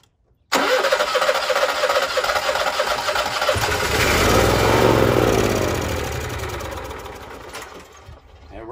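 An Onan 5500 Marquis Gold generator, its carburetor just replaced, cranks and catches with a loud mid-pitched engine roar, surges up strongly, then sags and dies away toward the end, heard up close without talk.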